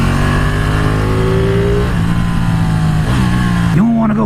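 A superbike engine revving while riding, a steady loud drone with a rising pitch that drops back and then climbs again toward the end, heard alone without talk.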